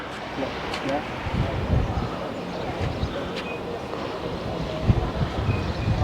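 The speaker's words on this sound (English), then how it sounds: "it's so windy today I've decided to not go ahead" Heavy wind buffets the microphone in a steady low roar, with occasional gusts swelling louder.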